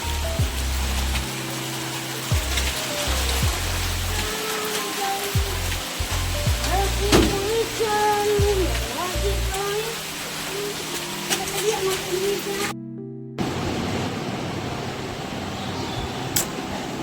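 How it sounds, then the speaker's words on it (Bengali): Heavy rain pours outside in a dense, steady hiss that lasts throughout, with a voice talking over it and a brief cut near the end. "বাইরে খুব বৃষ্টি শুরু হয়েছে"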